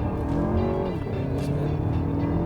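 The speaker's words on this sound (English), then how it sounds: "a little wheel spin, going up a hill" A 2023 Lexus RX with a 275-horsepower engine and front-wheel drive accelerates hard up a hill with a little wheel spin, its steady engine drone loud and close with no talking.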